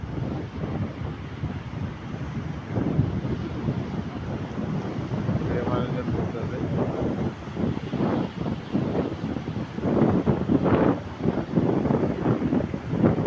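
Strong wind buffets the microphone on Kuakata sea beach in the morning, a loud, constant rumbling roar, with muffled voices breaking through now and then.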